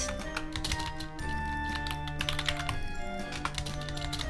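Rapid clicking of keys being typed on a computer keyboard, a dense run of close taps laid over steady music with no pauses.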